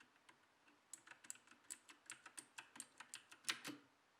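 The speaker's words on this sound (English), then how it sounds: "So while you are typing on this keyboard, just be sure that you don't have anyone around sleeping, because this is one of the loudest keyboard." Fast, steady clacking from a Cosmic Byte CB GK 16 mechanical keyboard with Optimus switches, sharp bright keystrokes tapping out in quick succession with a louder clack near the end, close and quiet with no voices.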